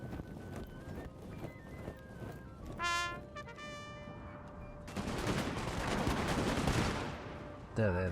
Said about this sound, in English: I love that little click, click, click, click, click as they fire.